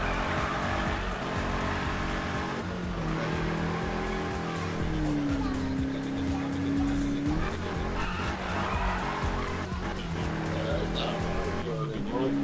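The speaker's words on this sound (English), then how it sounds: "I just want to see how this bitch is going to be drifting." A car drifting in a racing video game, its engine droning steadily while a long, loud tire squeal rises and falls throughout, with a voice talking over it.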